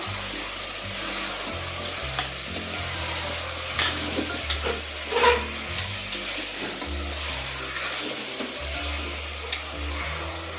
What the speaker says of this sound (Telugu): ఇప్పుడు దీన్ని కూడా బాగా కలుపుకుందాం.